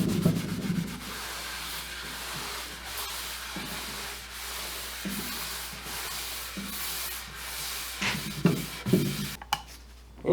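A rag rubbed back and forth across a wooden desk while wiping on wood stain, soft scrubbing strokes in an irregular rhythm, close and fairly quiet, with a few sharper knocks near the end.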